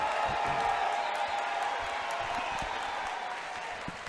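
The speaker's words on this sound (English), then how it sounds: "let's give both fighters a big round of applause" Crowd at an SSP 59 fight event applauds both fighters after a three-round bout, steady clapping with a few scattered whoops, fairly loud and sustained, fading slightly toward the end.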